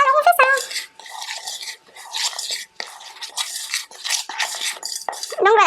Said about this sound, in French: on l'a mis dans notre petit saladier et on nous dit de mélanger